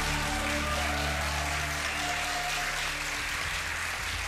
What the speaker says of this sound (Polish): No to teraz dostałeś duże brawa.